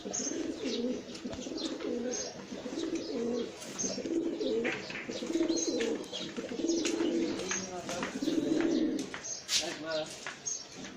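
Pigeons coo in repeated soft, throaty phrases from a loft of raw, silver and jhuma birds, with faint chirps and someone talking over them.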